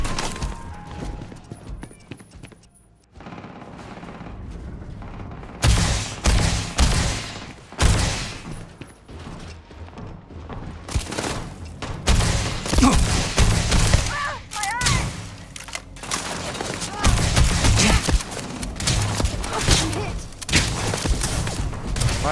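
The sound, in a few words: gunfire from a video game (Starfield)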